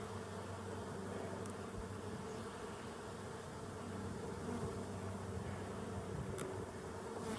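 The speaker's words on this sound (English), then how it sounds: "I got a lot of bees on all sides." A dense, steady buzzing of many honeybees close by around a hive in Colorado, continuous and even, with a low droning hum throughout.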